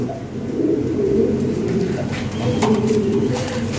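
Lahori Shirazi pigeons coo nearby in soft, throaty, rolling calls that overlap in steady waves, with no talk over them.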